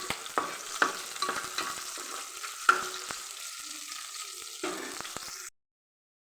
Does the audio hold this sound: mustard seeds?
yes